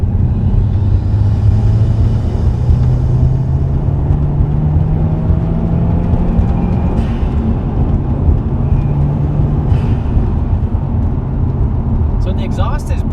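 A Honda Civic with a K24 engine, factory catalytic converters and a Grettis exhaust runs with a steady, mellow drone and a rising hum up close, under continuous talking.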